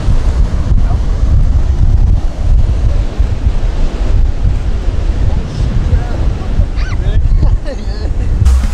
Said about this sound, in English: it's dark and windy as hell